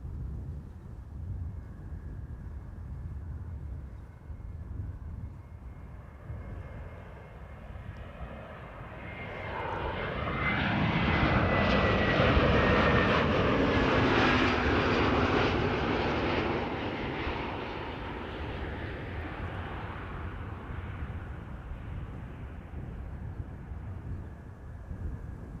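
Orange Pride airliner departing Amsterdam Schiphol: a jet engine roar swells from a distant rumble to a loud, whining peak midway, then fades back to a low steady drone, with no voices.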